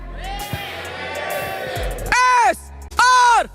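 A crowd at an esports watch party for the Mobile Legends M6 World Championship cheers and bellows during a cheer battle, with two loud chanted yells rising over noisy crowd chatter and talk.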